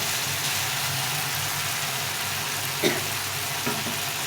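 Masala paste cooking down in oil with chopped tomato for a green banana kofta curry, a steady close sizzle and bubbling hiss under a low background hum, with a couple of sharp clinks near the end.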